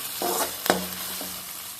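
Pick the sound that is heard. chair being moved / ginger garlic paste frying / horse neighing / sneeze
ginger garlic paste frying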